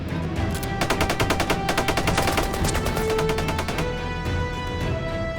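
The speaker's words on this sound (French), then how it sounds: "Prête-moi ta mitrailleuse!" Rapid machine-gun fire in a cartoon battle scene, a loud sustained rattle of evenly spaced bursts running through most of the stretch with dense background noise and no talk.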